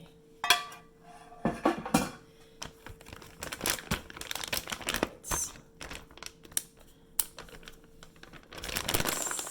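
A plastic bag of chicken marinade with garlic and brown sugar is sealed by hand, giving crinkling, rustling and soft plastic snaps as the air is pressed out, fairly quiet and close with brief pauses.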